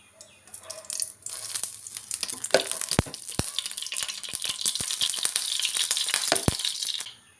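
Sliced banana sautéing in ghee in a hot frying pan, a steady crackling sizzle with sharp clicks and scrapes of a spatula against the pan throughout.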